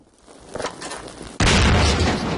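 An explosion in the video game Half-Life 2 sets off a sudden loud boom that cuts in after a short stretch of low game noise, followed by a sustained roaring rumble.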